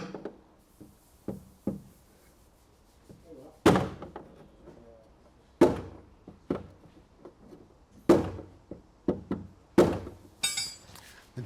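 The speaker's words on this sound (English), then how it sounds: "The dent, I'm managing to get it up by hitting along the ridge of it" A hammer taps out a dent along the ridge of a classic left-hand-drive Ford's steel bodywork, giving sharp metallic knocks in irregular bursts, some single and some in quick runs, close and clear with quiet gaps between.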